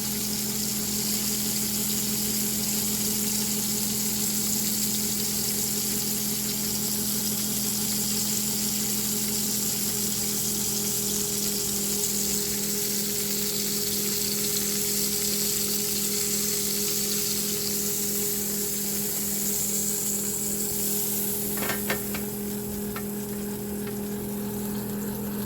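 A steak seared on its side in a hot pan, fat cap pressed down, gives off a steady, even sizzling hiss. A faint constant hum runs underneath, and a brief rattle comes near the end.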